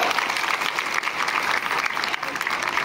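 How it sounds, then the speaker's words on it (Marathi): Steady, loud audience clapping for Nilesh Bhalerao Patil at a public rally, sustained and dense throughout with crowd noise mixed in. "त्यांच्यासाठी टाळ्या वाजवा एकदा."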